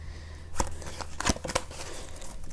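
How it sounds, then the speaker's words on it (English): A deck of playing cards being cut by hand, giving a few quick crisp riffling snaps and slaps close up against a quiet background hum, with no talking. "So now I'll make a cut to the deck."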